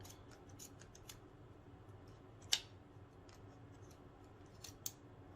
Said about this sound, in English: good fabric scissors for this.